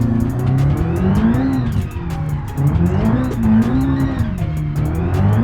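Powerful front-wheel-drive car in the BeamNG Drive driving game, its engine revving loud and continuous with tire squeal and skidding as it wallows through turns, close and alone without talk.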